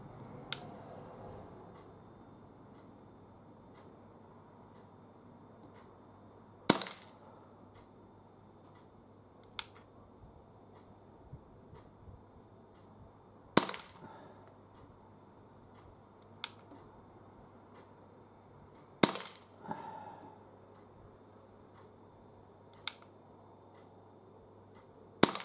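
Umarex CPS/CP99 air pistol firing pellets at a target, about seven sharp, isolated cracks spaced several seconds apart, with faint quiet handling in between and no talk.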